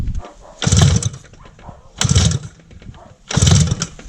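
The engine of a homemade buggy built from a Jawa motorcycle is cranked three times in regular bursts, each coughing loudly and briefly before dying away, with no steady idle catching.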